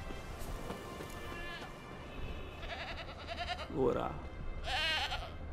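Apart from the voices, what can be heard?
goat bleating in The Witcher 3 video game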